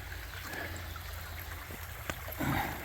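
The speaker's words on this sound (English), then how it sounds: "We got a little stream going here." A small stream on a hiking trail between New York and Connecticut trickles and babbles softly and steadily, with faint low rumbling in the background.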